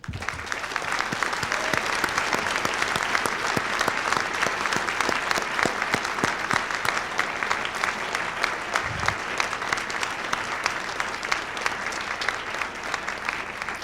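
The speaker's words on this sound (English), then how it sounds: "So if we could have a round of applause for the faculty." A graduation crowd applauds the faculty at an art institute ceremony, sustained even clapping from many people filling the hall for over ten seconds with a few louder close claps.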